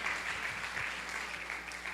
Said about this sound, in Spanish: Démosle un aplauso a Él, hermano